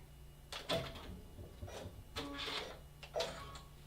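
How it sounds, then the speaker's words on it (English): A sewing machine back stitches through fabric in short mechanical bursts, starting and stopping several times with brief pauses between runs, close and fairly quiet. "I'm going to back stitch."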